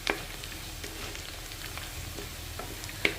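Chicken legs fry in hot oil with a constant close sizzle, a few sharper spits and pops standing out at the start and end.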